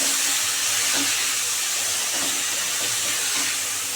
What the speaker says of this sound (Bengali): এবারে মিক্সিতে করা পেস্টটা দিয়ে দিচ্ছি, কাঁচা লঙ্কা, আদা, টমেটো, পেঁয়াজ, রসুন। এবার এটাকে দিয়ে ভালো করে কষাতে হবে